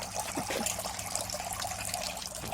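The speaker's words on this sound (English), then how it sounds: "Oh, that's a cute water fixture there." A small backyard water fountain runs steadily with a close, continuous splashing trickle, no voices, a constant watery patter throughout the short stretch.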